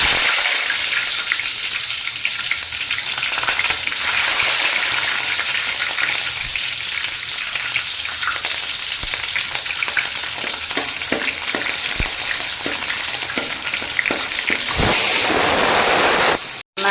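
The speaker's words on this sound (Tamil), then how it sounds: "இப்போ நம்ம வெங்காயம் சேர்த்துக்கலாம்." Onions frying in hot oil in a pan for a Tamil goat leg curry, a steady close sizzle that runs throughout with bursts of crackle and occasional stirring clinks.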